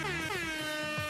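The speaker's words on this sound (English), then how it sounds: "Kevin gets an air horn" A loud, blaring air horn sound effect sounds alone in one sustained, brassy blast for just over a second.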